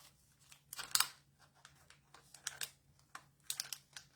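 A plastic package of brushed metallic embellishment dots is crinkled and torn open at a crafting table while making cards, giving several short, close rustling and crackling bursts with quiet gaps between them.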